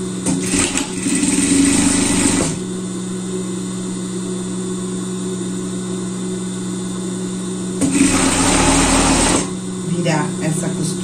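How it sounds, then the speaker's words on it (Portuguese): A domestic sewing machine topstitching a seam on a summer dress runs in two steady whirring bursts, near and fairly loud, with a quiet pause between them. "A gente tá rebatendo a costura aqui, virando a costura pra cima aqui e rebatendo a costura."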